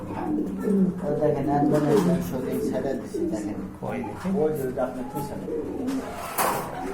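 Pigeons cooing in low, throaty warbles close by, overlapping with a person talking.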